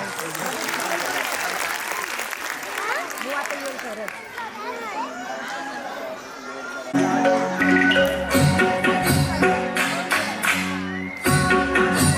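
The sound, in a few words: loud applause from audience at school function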